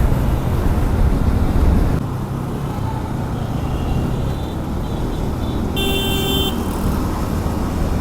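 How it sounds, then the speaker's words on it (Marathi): A KTM motorcycle horn gives one short, thin toot in road traffic on a Mumbai–Pune ride, heard over steady wind roar and engine rumble. "आपल्याला KTMचा हॉर्न चेंज करायला पाहिजे, कारण की या हॉर्नला ना देअर इज नो रिस्पेक्ट"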